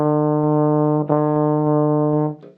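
A horn plays sustained, smoothly connected notes, softly tongued so each one is separated only slightly, in a steady solo tone with a brief pause near the end.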